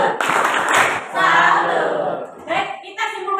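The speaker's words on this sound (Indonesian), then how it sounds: "kita berikan tepuk tangan untuk kelompok 5" Students in a classroom applaud a presenting group, a dense burst of close clapping that swells, dips briefly and picks up again over about three seconds.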